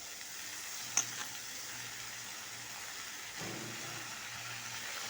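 Tomatoes sautéing in a pan for Tamil-style tomato thokku, a steady soft sizzle throughout with a sharp utensil tap near the start and a brief stirring scrape midway, close and moderately quiet with no talking.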